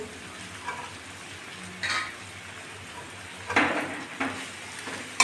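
Raisins and slit green chillies fry in a pan for vegetable fried rice, a soft, steady sizzle broken by a few scraping clatters of a spoon stirring against the metal, with no talking.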